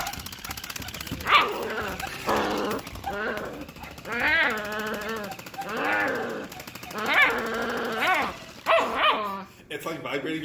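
A pet dog wearing a cone growls in long, vibrating, voice-like stretches that rise and fall in pitch, repeated several times in a row, loud and close.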